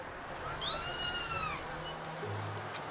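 Game cat in a Minecraft-style world gives one clear, drawn-out meow with a rising then falling pitch, close and fairly loud over a steady low background hum.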